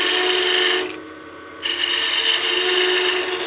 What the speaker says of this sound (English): so now we can part this off